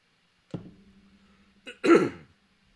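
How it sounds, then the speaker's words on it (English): A man clears his throat close to the microphone: a short low grunt, a brief pause, then a louder raspy clearing, in an otherwise quiet room. "Got to clear my throat."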